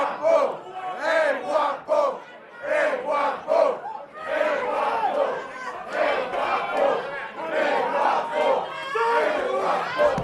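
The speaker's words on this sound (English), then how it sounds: "The Danish crowd showing their appreciation for the champion." Crowd at a Danish professional wrestling show cheering and chanting for the champion, loud rhythmic rising and falling shouts that run continuously through the whole stretch.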